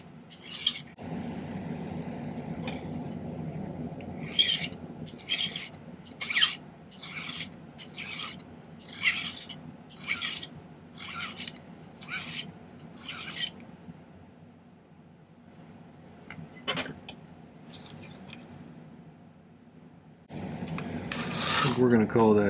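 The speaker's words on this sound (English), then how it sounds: "File both ends flat." A hand file rasping across the ends of a silver cuff bracelet, about eleven steady back-and-forth strokes in a regular rhythm, close and crisp, followed by a pause and a few more strokes.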